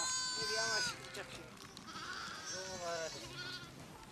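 A goat bleats during birth in a livestock setting: several wavering, nasal cries come close and loud, one at the start and more toward the end, while people talk quietly nearby.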